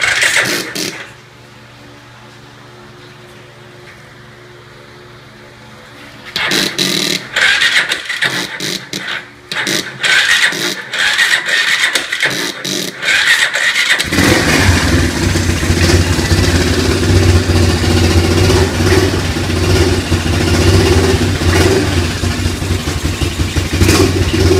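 A Yamaha Big Bear ATV engine cranks in uneven bursts, sputters, then fires and keeps running, roaring loud and rough with rising revs through the second half, close by and alone.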